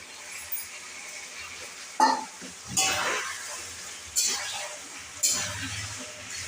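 Fresh coriander leaves are stirred into a sizzling tangra fish curry made with green tomatoes. A steady frying hiss runs throughout, broken by four distinct scrapes and clinks of the spoon against the pan.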